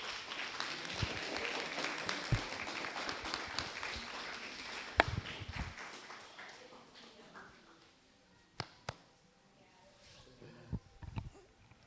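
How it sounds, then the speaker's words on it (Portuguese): Applause at a church service fades out over several seconds, with scattered last claps trailing off and faint voices underneath. "uma salva de palmas para o Senhor"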